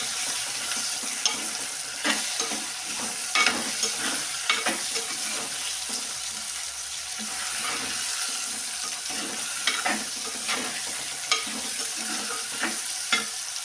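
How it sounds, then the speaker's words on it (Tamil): Chopped brinjal sautés in a pan for a Tamil kuzhambu, a constant bright sizzle broken by frequent scraping stirs and soft clatters, close and fairly loud, with no talking. "கத்திரிக்காய் வதங்கிக்கிட்டே இருக்கட்டும்"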